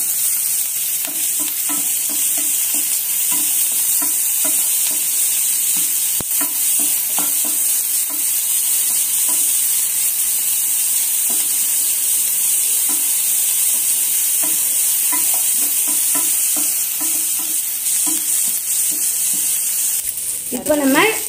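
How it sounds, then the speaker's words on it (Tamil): Green chillies and a large onion sautéing in a pan for a goat brain and duck egg fry, with a steady sizzle and repeated stirring and scraping throughout. "அடுத்து ரெண்டு பச்சை மிளகாய் அப்புறம் ஒரு பெரிய வெங்காயம் நல்லா வதக்கிக்கணும்"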